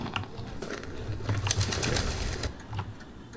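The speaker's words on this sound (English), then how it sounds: "The bird was unafraid when you entered, but as you approach, it becomes disturbed." A bird in the PC cave-exploration game Colossal Caves grows disturbed, giving soft cooing calls and faint flutters over a quiet cave ambience, with no voices.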